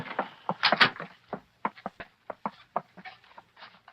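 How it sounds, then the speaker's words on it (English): Door handling in a 1943 radio drama: a series of sharp clicks and knocks, a rattle of the latch followed by scattered taps and thumps, close and fairly loud with no talk. "Cato, try the door. Oh, it's unlocked, Mr. Britt."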